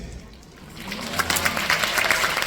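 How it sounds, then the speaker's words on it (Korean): An audience breaks into applause, a dense rush of clapping swelling up from quiet after a second and holding steady, fairly loud and without speech. "아직 박수 치시긴 일러요."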